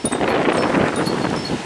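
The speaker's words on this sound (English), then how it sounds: "We're having a pretty good windy day to start off here on a Friday" Outdoor wind on a windy day, a steady broadband rush and buffet, close and fairly loud, over a brief stretch with no talking.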